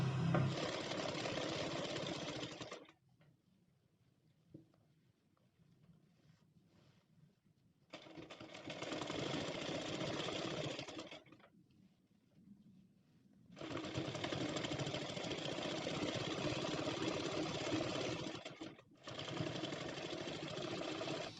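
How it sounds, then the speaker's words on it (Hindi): A sewing machine stitches a cotton nighty in three long, steady runs of fast mechanical whirring, close and even, with quiet pauses between the runs. "सिलाई लगाएंगे।"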